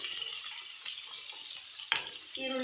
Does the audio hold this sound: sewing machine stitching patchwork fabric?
no